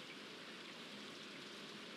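Steady soft rain falls in the Stardew Valley video game, a faint, even hiss of drops without pauses or voices.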